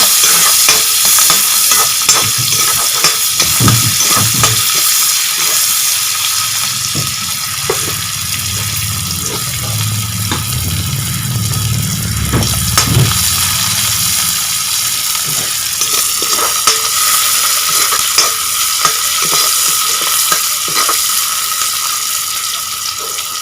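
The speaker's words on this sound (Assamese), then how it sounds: "আদা ৰচুন অলপ ভাজি লওঁ" Ginger and garlic fry with onions in a hot pan, a steady loud sizzle with scraping and stirring clatter throughout, close up and without talk.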